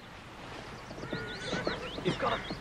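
A horse whinnies with rising and falling high-pitched calls, mid-distance, over a steady low background rumble, growing louder toward the end.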